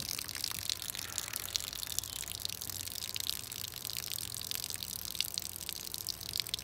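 Water from a full container drains steadily through a siphon, a continuous rushing gurgle with a faint trickle and no pauses, close and moderately loud.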